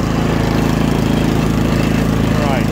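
A gas Troy-Bilt two-stage snow blower, working alongside an EGO battery model on a sidewalk, throbs with a steady, loud, close engine drone and a rhythmic low pulse, with faint voices underneath.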